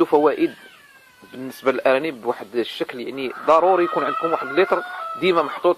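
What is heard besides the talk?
chickens clucking while laying eggs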